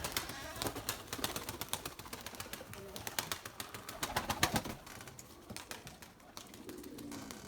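Domestic pigeons released outdoors for a flight, with a rapid clatter of wingbeats and flapping bursts throughout, loud and close at moments, under faint background sound.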